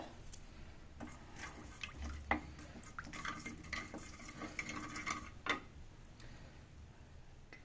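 Mustard seeds fry in a little oil in a pan, giving soft sizzling with scattered small pops and ticks, close but fairly quiet.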